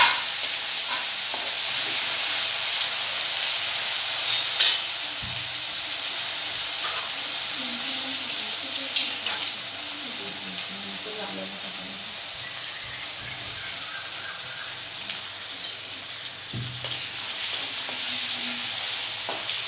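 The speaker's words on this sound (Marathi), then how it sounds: "छान 1-2 मिनिटं परतत राहायचं। कांदा, लसूण, आलं टाकलेलं आहे मी।" Onion, garlic and ginger sauté in a hot pan for pawta usal, a Marathi bean dish, giving a steady, even sizzle and fry hiss throughout, with a couple of brief clinks of a spoon against the pan.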